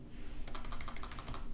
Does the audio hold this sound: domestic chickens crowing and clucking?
no